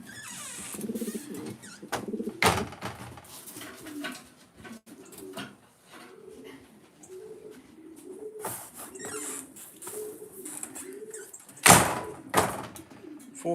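Racing pigeons in a basket, being prepared for a race, give repeated soft, throaty coos close by. Occasional sharp knocks and rattles from the basket or a door break in, loudest near the end.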